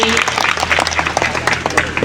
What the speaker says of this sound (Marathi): ह्या पावल्यासाठी एकदा जोरदार टाळ्या होत्या